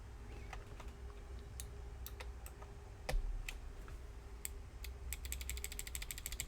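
Typing on an Ingot66/FC660c keyboard fitted with Densus x KLC parts gives scattered, crisp keystroke clicks over a quiet room hum, then ends in a fast, even run of taps.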